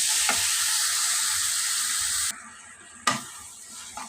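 Sugar sizzling as it melts in a hot pan, a steady bright hiss that cuts off abruptly, leaving a faint crackle and a couple of scraping taps.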